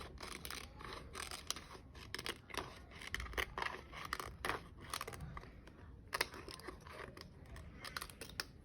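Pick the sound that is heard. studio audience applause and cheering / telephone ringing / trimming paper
trimming paper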